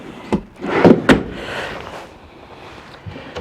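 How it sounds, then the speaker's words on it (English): Heavy-duty pull-out drawers on metal glides in the kitchen of a 2020 Forest River Sunseeker 3050S RV, sliding and thudding shut in a few close, fairly loud strokes, followed by quieter rattles. "More pull-out drawers. Notice they're metal glides, so they're really heavy duty."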